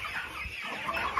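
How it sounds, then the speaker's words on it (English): Farm chickens clucking steadily and close by, with several birds overlapping in a continuous, busy flock chatter and no one talking. "Chicken is snooping."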